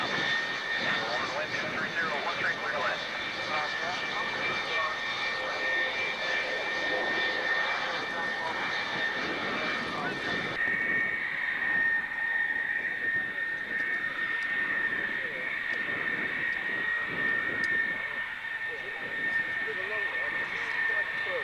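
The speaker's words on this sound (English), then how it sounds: "Fabulous, fabulous aircraft, F-111s." F-111 jet aircraft flying a demonstration with the 48th wing, a sustained broadband engine roar at steady volume throughout, with an announcer talking over it.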